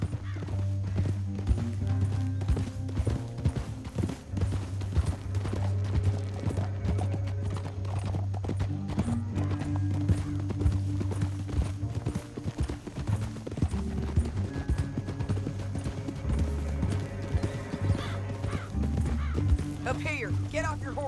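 Steady clip-clop of horse hooves at a trot over a low rumbling music bed in Red Dead Redemption 2, with a horse whinny near the end.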